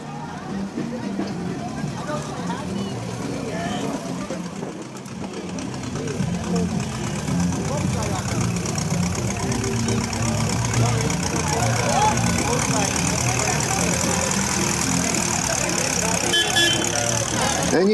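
Classic Jukebox Cruisers cars idle and rumble along in a Halloween parade, their engines forming a steady mid-level drone amid crowd noise while a commentator talks over them.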